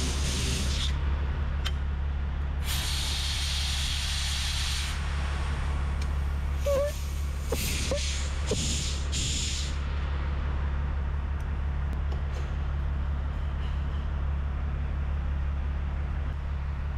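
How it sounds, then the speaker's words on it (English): A steady hiss of aerosol cleaner sprayed onto a fuel injector being turned, in short bursts over a constant low mechanical hum, fairly close, with a few brief clicks. "You can also see as I'm spraying it, I'm turning the injector itself."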